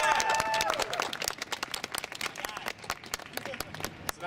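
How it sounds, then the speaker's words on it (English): Applause and scattered clapping from a rally crowd at an outdoor Chicago rally, dense and steady across the whole stretch, with some voices mixed in. "So let's have a round of applause for Representatives Rush and Davis."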